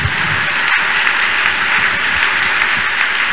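A church congregation claps and applauds during a Thursday prayer service, a dense, continuous wash of many hands heard up close and sustained throughout.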